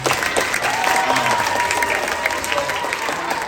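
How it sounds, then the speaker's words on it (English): School assembly audience applauding visiting guests at a charter school, a dense, continuous roar of many clapping hands filling a large room, with faint voices beneath. "can we give them a round of applause as well?"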